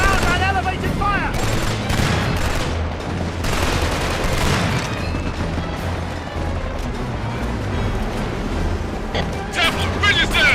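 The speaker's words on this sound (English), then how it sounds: "Watch out! Ground and elevated fire!" Dense, loud bursts of automatic gunfire and explosions from the Killzone 2 video game on the Corinth River level. The firing is heavy and continuous, with shouted voices mixed into the battle noise.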